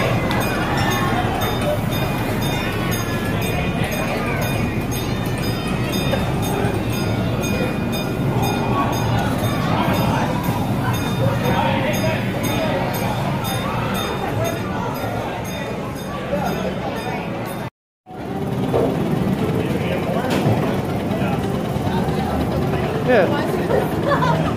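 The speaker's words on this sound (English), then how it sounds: "Train car." Amusement park train cars at Adventureland Park rumble along continuously with a steady rolling clatter, while people chatter and talk nearby over it, with a brief dropout partway through.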